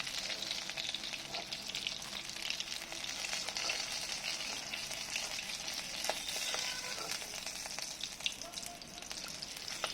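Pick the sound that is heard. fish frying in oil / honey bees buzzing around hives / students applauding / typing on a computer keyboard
fish frying in oil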